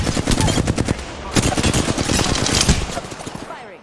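Rapid automatic gunfire from an Apex Legends match, sustained bursts of rattling shots for several seconds, loud and close, with a brief voice mixed in.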